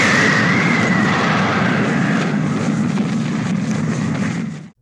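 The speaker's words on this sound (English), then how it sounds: "Ripley manages to get into the shuttle with Jonesy and escape just as the ship explodes behind her." A spaceship exploding in the film Alien, a loud sustained roaring blast that rumbles heavily and then cuts off abruptly to silence.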